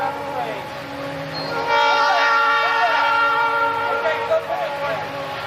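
Fast freight train roaring past an Amtrak station at about 60 miles an hour: loud sustained horn tones over a rumbling rush that swells as it passes close by.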